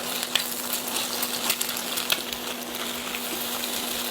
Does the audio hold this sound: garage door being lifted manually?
no